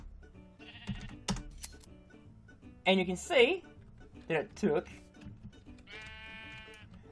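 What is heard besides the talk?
sheep bleating as robot shears wool, Minecraft video game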